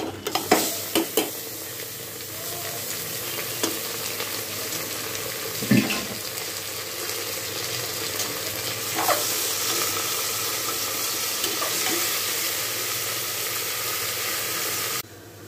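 Meat frying in a pan with onions already browned, a steady close sizzle with scattered stirring clatters and scrapes throughout, no voices.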